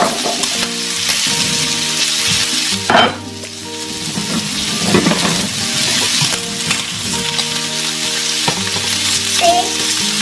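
Pork ribs for a Thai braise browning in a hot pan, a steady loud sizzle and crackle running throughout, with brief scrapes and clinks of stirring and a short dip partway through.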